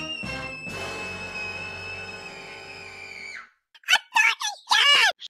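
A girl lets out one long, loud, high-pitched scream lasting about three seconds, then goes quiet before several short bursts of excited speech.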